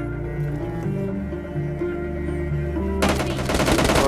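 Automatic gunfire from an M4 and other weapons in PUBG Lite, rapid bursts echoing at a distance before a loud, dense volley erupts near the end.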